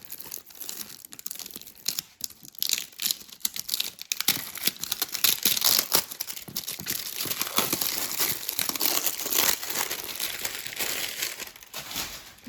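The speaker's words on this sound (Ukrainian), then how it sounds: "Як я люблю цей звук розпаковки" Close-up crinkling and tearing of plastic packaging as a Sinsay parcel of home goods and clothing is unwrapped, with steady rustling and sharp crackles throughout.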